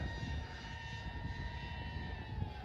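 SkyWing 60-inch Yak 45 model airplane flying inverted at three-quarter throttle, its engine whining steadily at a distance, faint and even over light wind noise.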